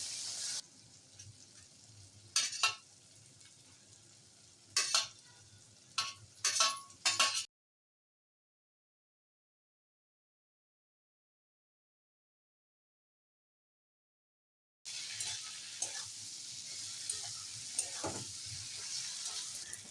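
Tomatoes and a soaked egg mixture fry in a kadai with a steady sizzle, broken by sharp utensil clacks against the pan. Several seconds of complete silence fall in the middle before the frying resumes, close and moderately loud, with no voices.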